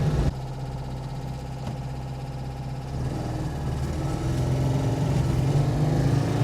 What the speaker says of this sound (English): It sounds like I have a large lawnmower in the front of the car,